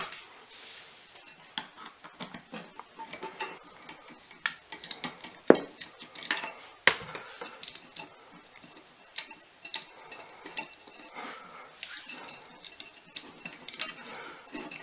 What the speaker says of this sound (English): So you want to take these bolts out using a screwdriver, okay, and you just take them apart